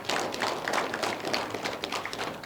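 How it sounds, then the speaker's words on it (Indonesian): A studio audience at a televised dialogue forum claps in a short, brisk burst of close, rapid hand claps lasting a couple of seconds. "Boleh tepuk tangan kembali?"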